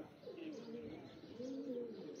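Pigeons on a rooftop loft give two soft, rolling coos in a row, close by and moderately quiet against a light background hiss.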